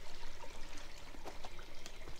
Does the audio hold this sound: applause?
no